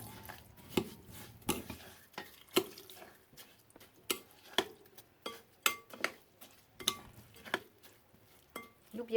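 Couscous semolina is mixed with water in a bowl, giving soft, irregular scraping and clinking strokes of a utensil against the dish, quiet and close, with a wet, gritty texture.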